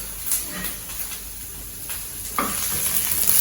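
Garlic sautés lightly in a pan for mango-coriander kuzhambu, a soft sizzle punctuated by a few sharp scraping stirs, the hiss swelling slightly toward the end.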